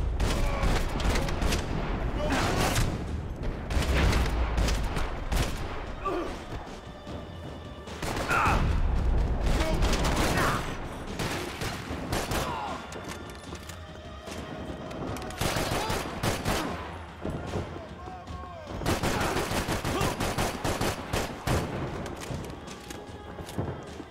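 Video game gunfire in Max Payne 3: dense, continuous bursts of shots and rapid automatic fire with booming impacts, loud and sustained throughout, with a voice speaking intermittently underneath.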